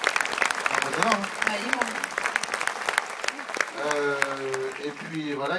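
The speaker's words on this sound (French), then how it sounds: "on peut les applaudir bien fort." A film premiere audience applauds the producers with sustained, crackling clapping while a voice talks over it, with a musical or tonal sound rising near the end.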